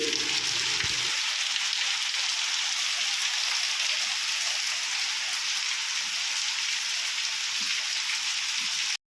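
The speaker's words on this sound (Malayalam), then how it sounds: "നല്ല മഴ ഉണ്ട്" Heavy rain pours steadily in a dense, continuous hiss that stays loud and even throughout, with no voices.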